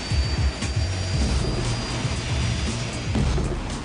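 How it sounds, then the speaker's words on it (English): A Rolls-Royce Nimbus helicopter jet turbine fitted in a minivan gives a steady, loud turbine roar with a constant high whine above a rumbling low end, sustained throughout. "It packs a Rolls-Royce Nimbus helicopter jet turbine where the kiddies should be strapped in."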